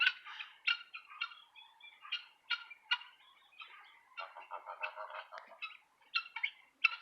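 Guinea fowl in a backyard flock give harsh, rapid, repeated chattering calls in bursts, some overlapping, at moderate distance with quiet gaps between.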